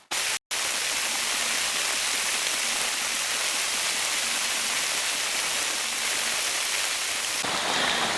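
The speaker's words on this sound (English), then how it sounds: "I have no other choice but to get wet in the rain." Dense, steady rain falls outdoors with a loud, continuous hiss that runs for about eight seconds after a brief gap at the start, and no voices can be heard.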